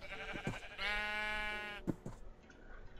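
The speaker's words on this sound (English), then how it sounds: "So there's a bunch of sheep here." Sheep bleating in Minecraft, a couple of drawn-out wavering blats with short clicks between, close and clear against a quiet background.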